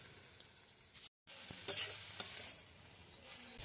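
Tandulsa greens with garlic and salt are stirred and sautéed in a pan over a wood-fired stove, the utensil scraping and scuffing against the pan over a soft continuous sizzle, close and fairly quiet, with a brief dropout early on.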